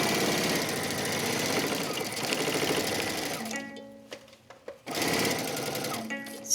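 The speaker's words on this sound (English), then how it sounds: "You're gonna sew all the way around there." Sewing machine stitching around a fabric tool pouch, a fast steady mechanical chatter that stops briefly, leaving faint handling noises, then starts again, close and clear.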